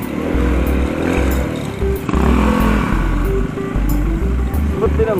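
A Rusi Korak 110cc motorcycle engine chugs steadily while being ridden, its loud, close exhaust putter pulsing rhythmically with a brief dip mid-ride.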